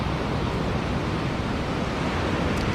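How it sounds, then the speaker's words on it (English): Waves wash onto a shore and draw back, heard as a steady, dense hiss of surf that stays even and fairly loud throughout, with no voices. "Notice how the waves crest up here, and now watch how they swell back in."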